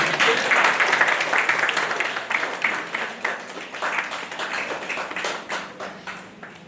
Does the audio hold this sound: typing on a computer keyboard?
no